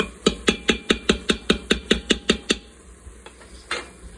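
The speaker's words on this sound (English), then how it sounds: "So we're gonna saute this up. Mix it up a bit." Dump stew being sautéed and stirred in a pan: a steady run of about thirteen sharp utensil clacks, roughly two per second, then a pause and one last knock against the pan.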